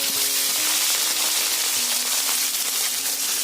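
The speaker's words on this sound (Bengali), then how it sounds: "মাছগুলো ভেজে নেব, তার জন্য দিয়ে দিলাম কড়াইতে সর্ষের তেল।" Pieces of rohu fish sizzle loudly as they fry in smoking hot mustard oil in a wok, a dense, steady crackling hiss that runs without a break.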